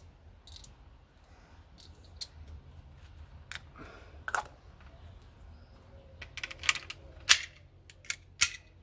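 Airsoft or CO2 shots from a T4E Umarex Glock 17 Gen5 pistol, a handful of sharp, dry cracks at irregular intervals over faint background noise, clustering more densely toward the end.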